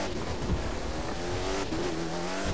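Car engine and tyre noise from The Crew 2 racing game on Xbox One, a steady loud engine drone with shifting pitch and a brief tyre squeal, heard alone.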